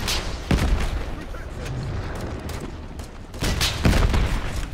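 Dense battlefield gunfire in the shooter Call of Duty: Modern Warfare 3 (2023), repeated loud volleys and booming blasts rolling together with little pause.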